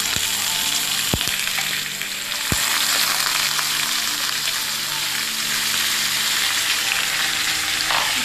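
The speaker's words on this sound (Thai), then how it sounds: "ใส่เลือดหมูลงไปแล้วก็คนให้เข้ากันระวังเลือดหมูจะแตก" Steady, loud sizzling of cut pork blood stir-frying with garlic in a hot pan, with a couple of sharp clinks from a utensil stirring.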